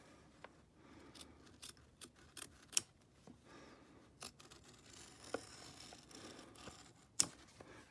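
Scissors snipping fabric while cutting out a Hogwarts house tie applique, a series of sharp, close clicks and snips at irregular intervals, with a few louder cuts standing out.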